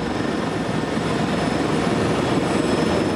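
Military helicopter of the French Air Force's 167 Pyrénées squadron in flight, a steady, loud, close rotor and turbine roar sustained throughout with no speech.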